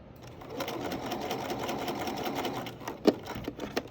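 Sewing machine stitching a patch pocket, a steady close motor whir running continuously for most of the stretch, then a few sharper mechanical clunks near the end as the needle stops.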